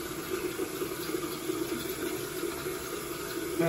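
Tap water runs steadily at a sink during a face wash, a continuous close splashing hiss lasting the whole stretch, with no talking.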